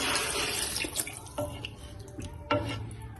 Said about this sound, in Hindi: मैं इसमें डाल दूँ पानी